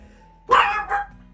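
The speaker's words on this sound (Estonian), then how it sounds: "Nii kuri koer." A dog gives one sharp bark followed by a quick second bark or snarl, close and loud in a quiet indoor room, with a faint steady hum beneath.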